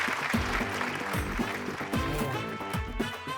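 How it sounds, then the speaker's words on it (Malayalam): Studio audience clapping on a TV game show: steady, dense applause that runs through the whole stretch, mixed with background music. "നന്നായിട്ടൊന്ന് കൈയടിച്ചേ."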